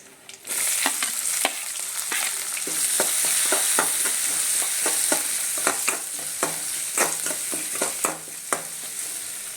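Chopped onion, ginger and green chilli dropped into hot oil and frying in a pan, a loud continuous sizzle starting abruptly, with repeated sharp scrapes and taps of a spatula stirring throughout, no voices.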